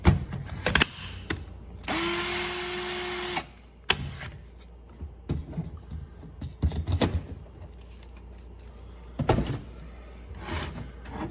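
A power drill whirs steadily for about a second and a half, bracketed by clicks and handling noises, then short mechanical knocks follow; a Black & Decker 20V battery with replaced cells powers it.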